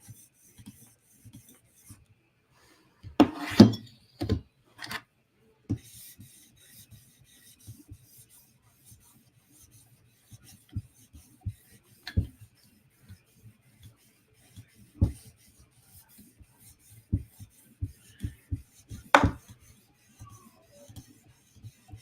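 PM2 Tanto knife blade worked over a sharpening stone in sparse, soft rubbing strokes with quiet gaps between them, close but faint, no talk.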